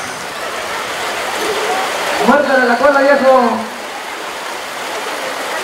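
Steady rain falls outdoors as a continuous hiss throughout, with someone speaking loudly over it for a moment in the middle.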